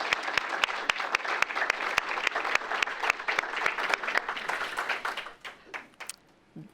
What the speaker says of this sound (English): give Dan and Val a little bit of applause for all their hard work